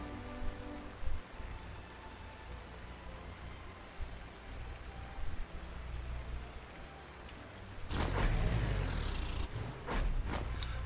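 Rain in the war strategy game Panzer Corps 2 falls as a soft, steady patter with faint ticking, and a louder sweeping surge rises near the end.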